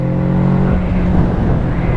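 The stock exhaust of a Kawasaki Z650 motorcycle gives a loud, close, raspy engine drone with slight rises in revs, steady and continuous, with no voices over it.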